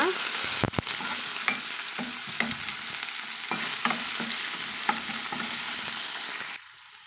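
Chopped tomato and other ingredients sautéed in oil in a pan for a jackfruit seed curry, giving a steady close sizzle with scraping stirs and spoon knocks, and no talking.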